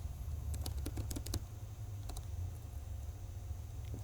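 Someone types on a computer keyboard, brief bursts of quick clicking keystrokes over a low steady hum, faint and close, pausing between clusters.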